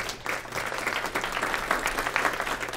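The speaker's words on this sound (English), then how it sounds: "give them a round of applause" Sponsors at a daytime event receive steady audience applause, a dense crackle of many hands clapping at moderate distance with no talking over it.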